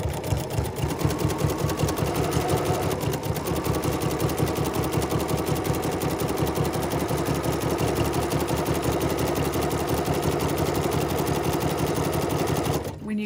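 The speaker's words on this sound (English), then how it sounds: "just going to have a simple zigzag stitch with a stitch width of 5 millimeters and a stitch length of 1 millimeters" Sewing machine running a zigzag stitch 5 mm wide and 1 mm long along a fabric edge, a fast steady mechanical chatter held for several seconds before it stops abruptly.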